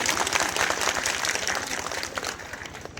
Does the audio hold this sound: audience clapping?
yes